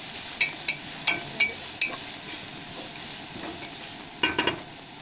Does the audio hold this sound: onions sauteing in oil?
yes